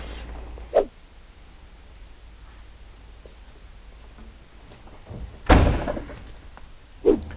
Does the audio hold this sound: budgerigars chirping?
no